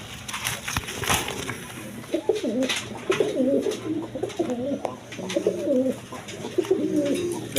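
Big, deep-red Rajgola pigeons cooing up close, repeated throaty rolling coos in short bursts with light rustling and handling noise around them.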